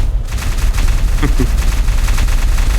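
Cannon and machine gun fire pound away in Minecraft during a battle against the Wither Storm, a dense rapid barrage of shots and booms rattling continuously at close range.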